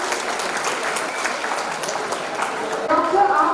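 An audience applauding winners at an Independence Day celebration, with dense steady clapping throughout that swells near the end while a voice speaks over it.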